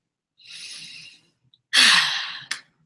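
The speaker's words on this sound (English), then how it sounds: "take a deep breath in with me" A person breathes in slowly and audibly, then after a pause lets out a louder, deeper breath ending in a short sharp exhale, close to the mic with no talk.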